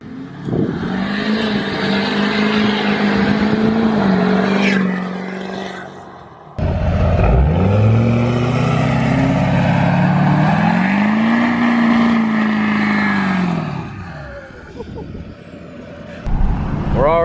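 A straight-piped 2012 Duramax LML diesel truck roars loudly as it accelerates with spinning tires, the engine note climbing and falling through two long pulls separated by a brief shift, with a voice speaking over it.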